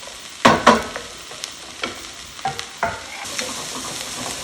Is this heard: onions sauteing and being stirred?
yes